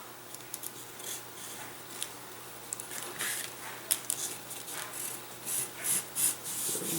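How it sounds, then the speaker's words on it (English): Foam being sanded by hand while building a chuck glider, a dry, close scratchy rubbing in short irregular strokes that grow steadier and more rhythmic toward the end. "what I want to do is just minimize the amount of actual sanding"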